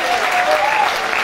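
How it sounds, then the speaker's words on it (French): Warm, continuous applause from a cabaret audience in a hall, a dense crowd of hands clapping with a brief voice cutting through. "applaudissez aussi Stéphanie Paul"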